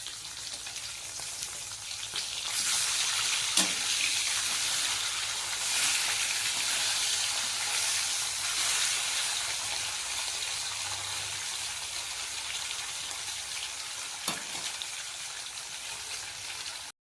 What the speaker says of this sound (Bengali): তারপর মাছগুলো এক এক করে ভেজে নিচ্ছি